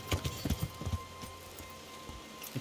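A horse's hooves clip-clop in the video game Kingdom Come: Deliverance, a few quiet, uneven steps near the start that fade into soft background.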